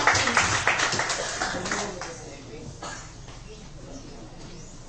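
Students in a grade 10 English class debate clap their hands to welcome the next speaker, a burst of close, moderately loud claps that fades over a few seconds while someone speaks over it.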